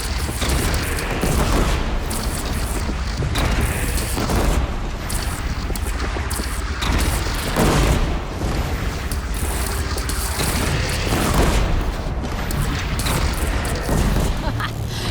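Dense, loud gunfire and explosions fill a battle in the video game Horizon Zero Dawn Remastered, with continuous booms and bursts and voices shouting over the fighting.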